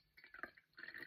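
Liquid poured softly into a vessel in a quiet room, a faint, close trickle with small gurgling bursts and a brief pause before the flow picks up again.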